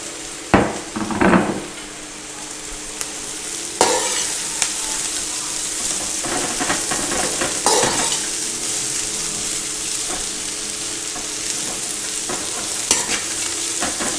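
Capsicum, carrots and cabbage being stir-fried lightly in a pan for chicken chow mein, a steady close sizzle with spatula scrapes and stirring clatters recurring throughout.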